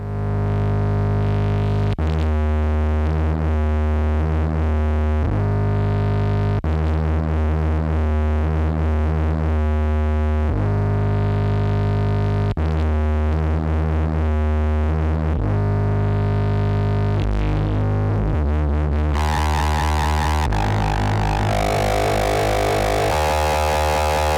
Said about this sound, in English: now we can shape the tone of our distortion like this